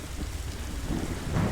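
Heavy rain and rolling thunder in the dinosaur survival game Beasts of Bermuda, a dense continuous downpour with a low rumble swelling louder toward the end.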